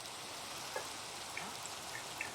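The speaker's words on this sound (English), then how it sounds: "It's raining again, that's fine." Rain falls in the Minecraft video game as a steady, soft hiss of game rainfall with faint scattered drop ticks. It runs evenly throughout at a quiet level, and no voices are heard.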